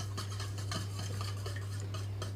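Three beaten eggs with a pinch of salt whisked in a bowl produce rapid, continuous clinking and scraping of a utensil against the bowl, close and busy over a low steady hum.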